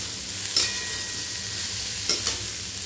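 Tofu curry with long beans and mixed vegetables frying in a pan, a steady close sizzle with two brief spoon scrapes of stirring, no voices.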